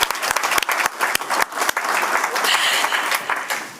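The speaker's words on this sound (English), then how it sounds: "Okay, let's clap again." Applause from attendees at a Tuesday morning committee meeting, a dense burst of many hands clapping with sharp individual claps at first that blend into a steady roar, with talk mixed in underneath.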